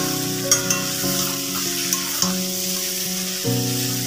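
Spices temper in a mix of ghee and hot oil with a steady, close sizzle. Light pops and a few stirring clicks sit over a low hum from a background drone.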